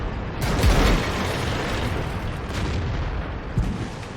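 A tank cannon booms in World of Tanks as a single heavy shot that rolls into a long, dense rumble, loud and close, with a smaller thud arriving afterward.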